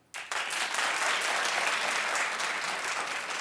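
A television talk-show studio audience claps loudly right after a brief quiet start, the dense applause holding at an even level throughout without talk over it.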